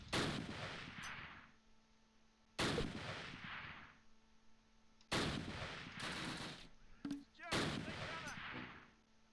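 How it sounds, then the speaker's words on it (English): Grenade blasts in the WWII tactical game Close Combat Last Stand Arnhem, set at Wolfheze in 1944, burst loudly about four times, each sharp crack trailing into a rumbling decay, with a faint voice underneath. "Grenades close, up north."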